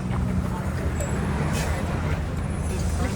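A city bus pulls up on a snowy winter street in Toronto, its engine rumbling close by with a brief air-brake hiss amid steady traffic noise.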